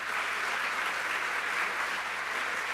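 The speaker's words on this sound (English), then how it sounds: "let's give them another round of applause" A graduation audience at a master's ceremony claps in a dense, even wash of sound that holds steady and loud throughout, with no voices on top.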